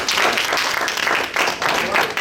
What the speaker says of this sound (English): Give the group a round of applause.